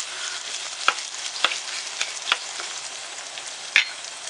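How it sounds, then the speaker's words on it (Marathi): Onion and tomato frying in a pan for a Maharashtrian white pea gravy, a steady close sizzle with a few sharp clicks of stirring scattered through, no voices. "त्याच्यानंतर त्यात कांदा आणि टोमॅटो टाकून व्यवस्थित आपण शिजवून घेऊया."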